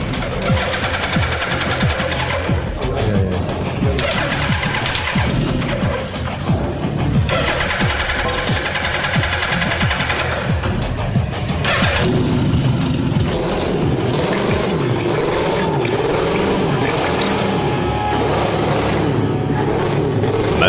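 Hayabusa motorcycle engine fitted in a Peel Trident micro car runs hard and revs loudly and continuously through the whole stretch, a dense mechanical roar with rising and falling pitch, with a fuel hose newly connected.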